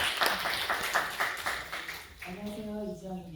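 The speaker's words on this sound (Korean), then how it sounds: "큰 박수 부탁드립니다." A symposium audience applauds an incoming lecturer: a dense patter of clapping for about two seconds, then it fades as a voice starts speaking.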